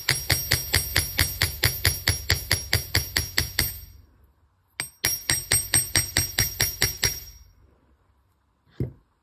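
Small hammer striking the rounded end of a wire ear wire to flatten it on a hard block, in two runs of about a dozen rapid, evenly spaced, ringing metallic taps, close and loud, with a single tap in between and another after a pause.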